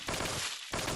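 SMG submachine gun firing in the video game Affliction Rescue, loud rapid bursts of automatic gunfire with a short gap in the middle, close and dense with no talk.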